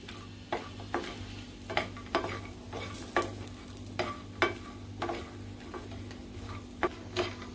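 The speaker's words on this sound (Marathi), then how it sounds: "तांबूस रंगावरती आपल्याला भाजून घ्यायचंय खोबरं" A spoon scrapes and knocks against a pan as grated coconut roasts, dry irregular stirring clicks about once or twice a second over a soft background hum.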